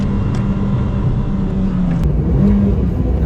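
Renault Twingo RS hot hatch engine pulling steadily under acceleration, a loud continuous low drone with a slight rise in pitch toward the end, no voices.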